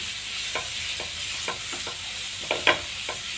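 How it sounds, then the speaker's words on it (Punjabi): Masala frying in a pan on the stove for macaroni, a steady sizzle with regular scraping stirs every half second or so, close and alone. "ਫਲੇਮ ਕੱਟ ਫਲੇਮ ਤੇ ਭੁੰਨ ਲਵਾਂਗੇ"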